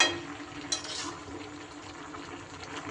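Leafy greens and mixed vegetables simmering in their own juices in a pot over a high gas flame, a soft steady watery bubbling and hiss, close and continuous with a brief brighter burst near the start.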